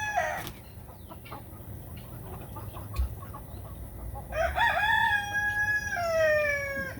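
A gold laced Wyandotte rooster on a farm crows one drawn-out call near the end, after a few soft clucks and faint bird sounds.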